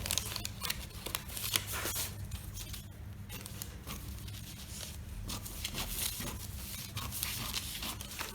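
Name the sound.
cutting a paper sewing pattern with scissors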